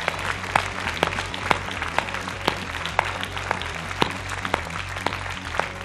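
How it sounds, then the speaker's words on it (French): An audience at a university pleading contest claps for the finalists, with a fairly thin, steady patter of applause and distinct individual claps over a low room hum. "Allez, applaudissez-les très fort, s'il vous plaît."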